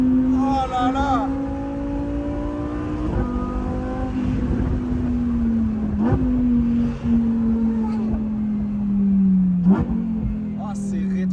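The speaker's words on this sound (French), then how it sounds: "Oh, ces rétrogradages, mais quel plaisir à entendre!" Close, loud engine note from a Lamborghini Huracan Performante Spyder on the move, pitch sliding down through repeated downshifts punctuated by sharp blips and crackles, continuous from start to finish.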